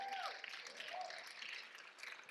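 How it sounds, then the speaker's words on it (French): A theatre audience applauds at a solo stand-up show, a faint, dense wash of clapping heard a little distant, with a brief whistle and talk over it. "Vous pouvez l'applaudir?"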